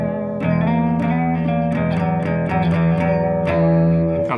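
Electric guitar played through a Gretsch pickup combined with a single coil for a hollow, Strat-like tone, with a string of plucked, ringing notes and chords, clear and upfront, and no talking.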